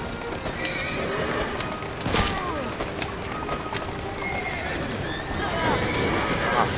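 Horse whinnies and galloping hooves from a street race in Assassin's Creed Syndicate, neighs cutting through busy game ambience with a brief impact near the middle.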